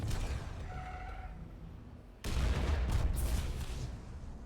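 After a quieter stretch with a brief tone, a sudden burst of Grand Theft Auto V gunfire and explosions erupts and continues loudly to the end.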